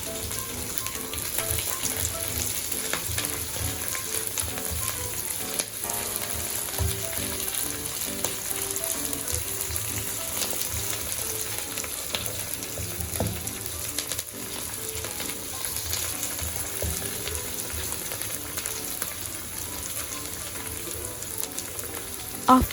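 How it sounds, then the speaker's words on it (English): Curry leaves, two to three sprigs, crackle and fry in hot oil for Chettinad-style chicken varuval, a dense continuous sizzle with scraping stirring throughout, close and steady, no talking. "now I'm adding in curry leaves. So I'm using about 2 to 3 sprigs of curry leaves. And continue to stir it."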